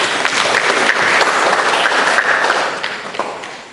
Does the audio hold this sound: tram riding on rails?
no